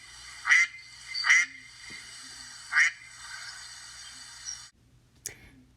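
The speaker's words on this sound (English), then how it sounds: "It was a duck." A duck quacks three times in the first few seconds, each call loud and nasal against a quiet background, followed by a couple of fainter short noises.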